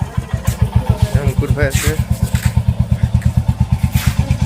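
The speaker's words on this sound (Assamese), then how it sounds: "বাইকখন চলাই চাব গৈছে।" A rented motorcycle, taken out near Tinsukia for a test ride, thumps in a fast steady engine rhythm close to the microphone, while someone speaks briefly over it.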